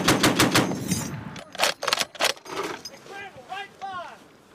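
Marines fire a .50 caliber heavy machine gun in Afghanistan in a loud burst of rapid shots, then a few more separate bursts, with voices shouting between them.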